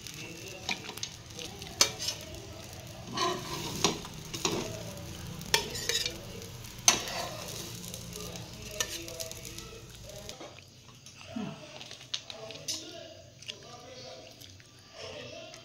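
Dabeli crisping on a hot pan sizzles softly and steadily, broken by occasional stirring or scraping knocks at close range. The sizzle drops away near the end, and a faint voice comes in briefly.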